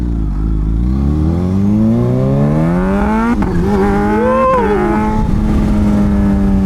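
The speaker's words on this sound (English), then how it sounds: "it's a super sharp little quick shifter on that bike. It just goes like right into the next gear." A 200HP supercharged naked motorcycle accelerates hard and loud, engine pitch climbing in rising sweeps, then snapping through quick-shifter gear changes with brief dips before winding up again, close to the microphone.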